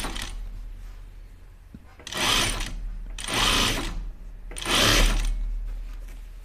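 Sewing machine stitching the darts of an Upton dress in three bursts, each about a second long with short pauses between, running steadily and close by with no talk.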